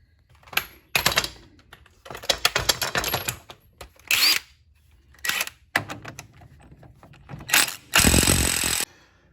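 A 36mm CV axle nut being removed from a 1998 Honda CR-V, heard as loud, close bursts of an impact wrench hammering in short repeated runs with pauses between, no voices.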